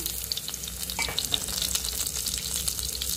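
Garlic fries in oil in a pan with a steady, close sizzle and scattered small pops and crackles. It sounds fairly quiet, with no voices.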